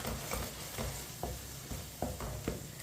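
A spoon stirs a tomato and spice masala in a pan for a besan bhindi dish, giving soft, evenly spaced scrapes and taps over a continuous, fairly quiet sizzle.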